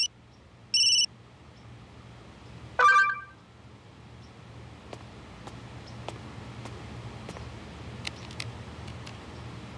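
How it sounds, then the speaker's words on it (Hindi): A phone rings with an incoming video call: two short electronic chimes sound near the start, then a quiet room with a low hum and no voices. "अनीश का वीडियो कॉल अचानक? छोड़, मत उठा।"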